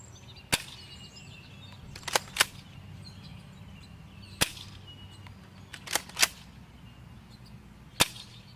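A NERF Mega Cycloneshock blaster fires flat shots outdoors, each a sharp crack, some in quick pairs, spaced across several seconds over a light ambient background.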